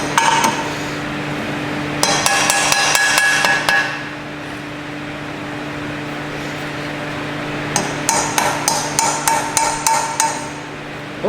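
Metallic hammer strikes on a Honda 250R build ring out in two quick bursts of rapid blows, separated by a pause, over a low steady hum.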